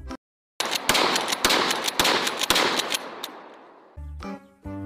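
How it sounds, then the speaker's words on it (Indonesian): Mini toy Nerf shotgun firing plastic bullets, a burst of sharp snapping clicks in quick irregular succession over a rattling noisy bed, then a few louder clacks at the end. "Di sini ada shotgun mini."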